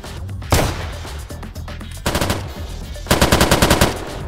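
Video game gunfire bursting in loud rapid automatic volleys, with a short burst early on and two longer sustained strings of shots later, each a dense rattle of fast repeated reports.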